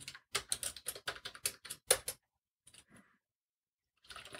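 Quick, close computer-keyboard typing as a root password is entered: a rapid burst of about a dozen crisp key clicks, then a few faint scattered taps and a short final flurry.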